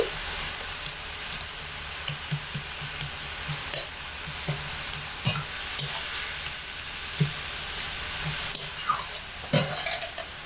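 Chopped banana flower cooking down with spices and ginger paste in a pan: continuous sizzling frying with scattered spoon scrapes and clinks against the metal, close and fairly loud, a few faint voice traces underneath.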